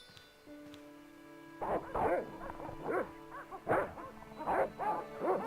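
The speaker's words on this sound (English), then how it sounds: "This is where the dogs are, right?" Dogs barking in the Broken Sword adventure game, a series of loud close barks and yips in irregular bursts after a quiet, humming start.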